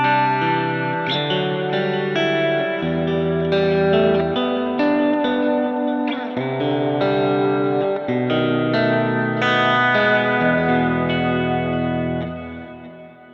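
A Telecaster-style electric guitar plays chords and melodic lines through reverb, echo and mild distortion, loud and up close, notes ringing and overlapping before fading at the end, with no talk.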